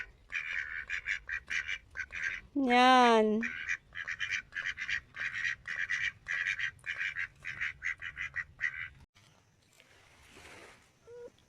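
Ducks quack in rapid, loud, close bursts that run nearly continuously, with one drawn-out warbling call partway through; a brief spoken word follows near the end as the calls stop.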